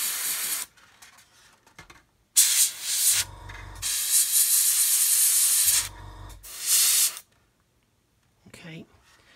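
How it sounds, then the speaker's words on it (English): An airbrush sprays black paint onto a model in a series of close, steady hissing bursts lasting a few seconds each, separated by brief pauses and near-silence. "Going to blow some black paint in here."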